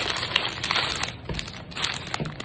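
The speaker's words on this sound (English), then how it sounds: "Make sure you dispose all the contents in one sealable plastic bag." Close, continuous crinkling of a plastic bag being handled and scrunched, a busy crackly rustle without pauses.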